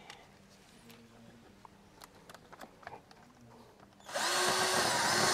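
A power tool tightens a hose clamp on a torn car intake hose, entering near the end as a sudden loud, steady whirring burst after quieter workshop clatter and faint taps.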